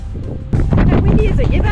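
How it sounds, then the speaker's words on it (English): Wind buffets the microphone in a sudden loud gust on the Yorke Peninsula, South Australia, roaring low and rough for a couple of seconds while a voice speaks. "It's just too windy at the moment."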